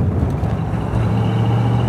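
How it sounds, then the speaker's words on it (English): A 1965 Mustang A-code convertible with a 289 engine crossing rough railroad tracks, heard as a steady, loud, close low rumble and road roar with no clear separate jolts. "here are some absolutely brutal railroad tracks"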